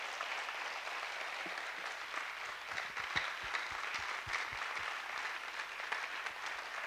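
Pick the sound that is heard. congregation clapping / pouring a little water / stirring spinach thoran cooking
congregation clapping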